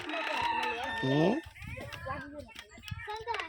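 A chicken cackles and crows close by, loud and drawn out, while people speak around it in the background.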